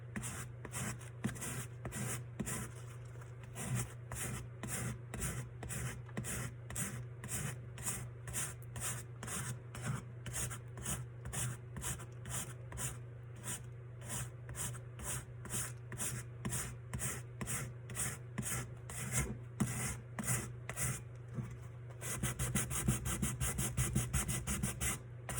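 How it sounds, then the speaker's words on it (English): A tumbler is sanded by hand with 280 grit sandpaper, giving steady, rhythmic back-and-forth rubbing strokes that repeat close up throughout and speed up toward the end. "I do like using the sandpaper a lot more"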